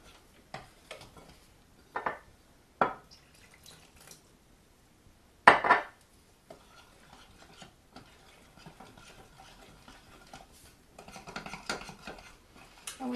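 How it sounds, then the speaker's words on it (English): A whisk stirs vegan whole grain banana-pecan pancake batter in a bowl, giving scattered clinks and scrapes against the sides with a few sharper knocks, then steadier rapid swishing near the end, close and fairly quiet. "But this whisk is great for stirring batters."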